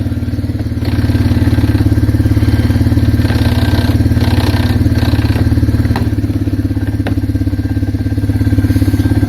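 An Arctic Cat 366 engine idles loudly and steadily up close after a hot no-start, a continuous throbbing mechanical drone with clattery texture and no talking.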